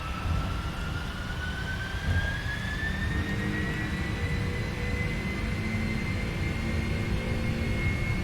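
Boeing 747-400 jet engines at takeoff thrust in a flight simulator, a steady loud roar with a rising turbine whine held at an even level throughout.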